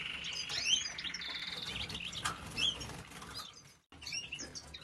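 Caged goldfinches and canaries chirp and flutter after being fed, with bright close tweets and bursts of wing flapping against the cage, briefly dropping to near silence before resuming.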